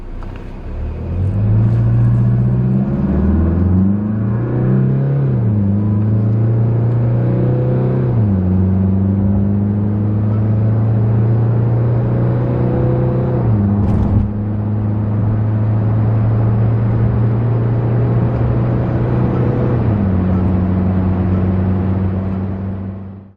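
A Tata Safari diesel SUV, Accomplished Plus variant, accelerates hard from standstill toward 100 km/h with the AC off, its engine droning and climbing in pitch through several gear changes inside the cabin, loud and steady without talk.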